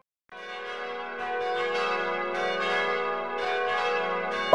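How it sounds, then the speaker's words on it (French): Easter church bells ring in a steady, sustained peal of rich overlapping tones, fairly close and alone, swelling slightly toward the end. "Les cloches de Pâques sont de retour."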